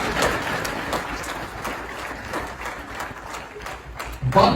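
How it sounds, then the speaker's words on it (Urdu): An audience of Pakistanis in America applauding at a speech event, a moderate, steady spread of clapping that tapers slightly, with a sharper burst near the end. "ان کے لیے ذرا تالیاں بجائیں."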